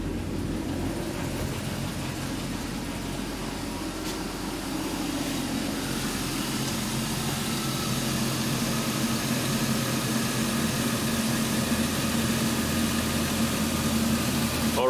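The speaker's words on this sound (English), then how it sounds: "So the engine is running." A Chevrolet Express van engine idles steadily with the blower motor running, a continuous low hum under a broad airy whoosh that holds constant from start to finish with no talking.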